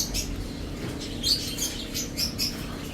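High, bright parrot chirps sound in short bursts during hand feeding over a steady low rumble of background noise, several calls spread across the clip.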